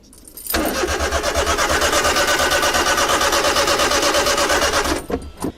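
A Honda Beat JDM sports car cranks with a rapid, rhythmic starter whir that runs steadily for several seconds, loud and close, then cuts off without the engine catching.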